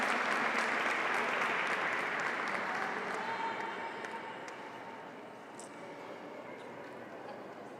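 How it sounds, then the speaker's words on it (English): Sustained applause from an audience at an American Indian Heritage Month celebration honoring a woman named Violet, a steady broad wash of clapping that gradually softens toward the end. "Please give a round of applause for Violet"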